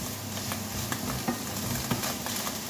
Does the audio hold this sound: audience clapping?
no